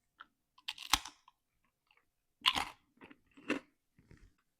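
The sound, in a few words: eating crunchy sourdough starter crackers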